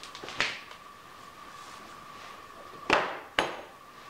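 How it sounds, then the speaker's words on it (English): Three sharp metallic hammer taps on a Sewer Slinger 12 part, one early and two close together near the end, ringing briefly over a faint steady hum. "Little whack with the hammer just to make sure we're down."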